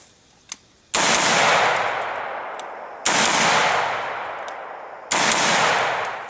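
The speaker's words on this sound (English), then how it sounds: "We're going to put some rounds through it here just real quick" Three loud gunshot blasts from a Colt LE6920 AR-15 rifle fired outdoors at steel targets, spaced about two seconds apart, each with a long echoing decay across open ground, plus a faint distant pop before the first.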